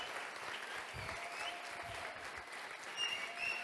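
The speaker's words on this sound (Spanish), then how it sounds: "Vamos a dar un aplauso a la gente de la cocina." Sustained, dense applause from a crowd at a congress gathering, honoring the kitchen staff, with steady clapping throughout and a brief swell near the end.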